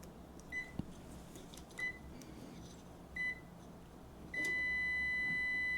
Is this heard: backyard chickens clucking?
no